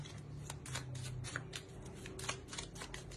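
Tarot cards riffled and drawn from a deck, a quick run of crisp papery flicks and snaps in close, quiet succession, heard alone.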